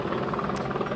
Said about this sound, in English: You can hear the LAPD helicopter moving in.